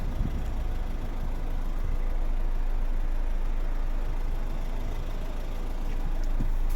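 A 2009 Renault Grand Scenic with the 1.9 dCi diesel idles with the hood open, a steady, close, low engine rumble that holds even throughout without revving or talk.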